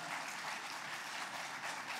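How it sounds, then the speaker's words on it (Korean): Church congregation applauding at a Christmas celebration service after children's Sunday school praise singing; steady, dense clapping fills the whole stretch evenly with no talk over it. "우리 들어갈 때까지 큰 박수로 축복하겠습니다"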